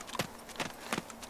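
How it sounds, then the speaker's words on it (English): Footsteps in the video game ARMA 2 DayZ sound as quick, evenly spaced thuds with crunchy tops, four close steps in a steady walking rhythm at low volume. "I hope the in-game sound isn't too loud for you, because even my footsteps are pretty loud"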